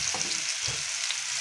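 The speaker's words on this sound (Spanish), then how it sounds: "friendo estos ricos guineos más honchos" Bananas (guineos) frying in a pan, a steady close hissing sizzle with a few soft stirring knocks and no voices.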